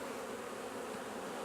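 Honey bees buzz steadily in a hive frame, a dense, constant hum at close range with no pauses.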